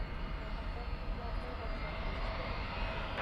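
A jet airliner takes off at night at DFW Airport, producing a steady, broad engine roar heard from a distance that holds at an even level, with a voice faintly present beneath it.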